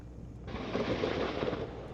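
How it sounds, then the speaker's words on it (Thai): An AH-1 attack helicopter fires rockets during a military exercise, with explosions: a sudden dense burst of rapid booming and crackling fire that swells after a quiet start and stays loud to the end. "เฮลิคอปเตอร์ AH-1 ปล่อยจรวดอย่างรวดเร็วแม่นยำ เสียงระเบิดดังตูมตูมหมอกควันคละคลุ้ง"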